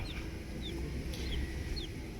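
Young chicks bought in town give soft, high peeping chirps a few times over a low background rumble, faint and fairly close.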